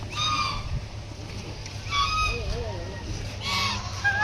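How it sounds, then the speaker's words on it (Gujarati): Ducks at the Madhda Sonal temple give loud nasal honking quacks in short bursts, several birds calling close by over a low steady background hum. "મિત્રો તમે જોઈ શકો છો આ બતક અહીંયા જ તમને મળી જશે આવશો એટલે"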